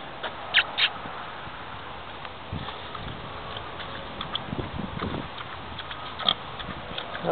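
A large pig grunts at a free-range feeder outdoors, with a few low snorting grunts scattered through steady background noise and no talking.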